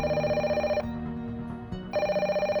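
A telephone call coming in on an answering machine, ringing in two loud, close bursts of fast electronic trills separated by a short quiet gap.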